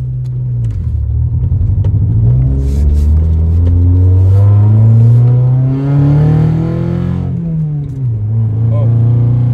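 A trashed Honda Civic EK coupe with a VTEC engine drives along, its engine droning steadily and rising and falling in pitch as it revs through the gears, loud and close inside the car.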